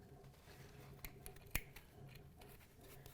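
Scissors cut through fabric drape in a quiet room, with a few sharp, crisp snips, one much louder in the middle and several fainter ones around it.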